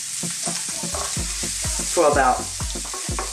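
Cabbage frying and being stirred in a pan, a steady loud sizzle with regular scraping strokes of a utensil about every third of a second, close up.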